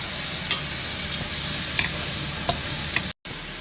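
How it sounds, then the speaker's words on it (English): Green peppers fry in sesame oil in a wok and crackle with a lively close sizzle, spiked by a few stirring scrapes and clicks, with a brief cut to silence near the end and no talking. "Coat your wok with sesame oil and then put in your green peppers"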